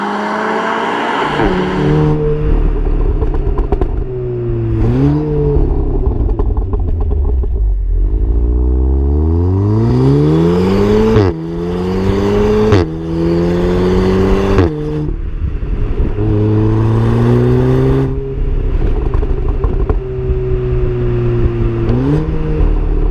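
A 2015/2016 Audi TTS with four-wheel drive, driven fast in dynamic mode: its engine revs climb repeatedly through gears with sharp shift breaks, loud and close from inside, with no voices.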